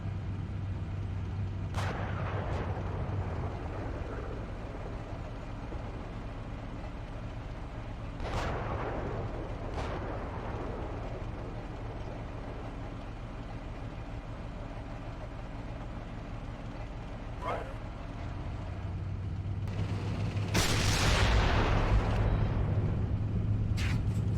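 Incoming gunfire and artillery in the Steel Beasts Pro PE tank simulator: scattered sharp impacts and booms break over a steady low engine rumble, with a louder, longer blast swelling near the end.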